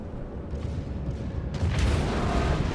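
Battleship main guns firing aboard the USS Wyoming in World of Warships: a low, steady rumble that swells into a heavier booming roar midway and carries on loud to the end.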